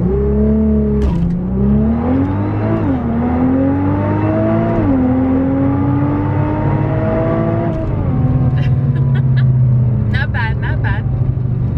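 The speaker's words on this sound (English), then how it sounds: "So the valves are open and we're gonna do a quick launch." A 2017 Nissan GT-R fitted with an Armytrix exhaust, valves open, revs hard through a quick launch, its engine note climbing in steps between upshifts and staying loud and close throughout, with a few clicks and chirps near the end.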